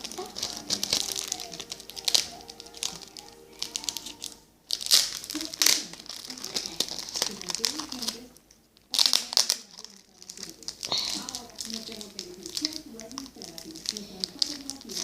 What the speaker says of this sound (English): I'm just gonna roll duct tape like that